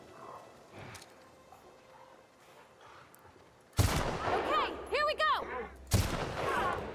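Gunshots in the video game The Outer Worlds at an abandoned outpost: after a quiet stretch, two loud, sharp blasts ring out a couple of seconds apart, with chirping, warbling game sounds between them.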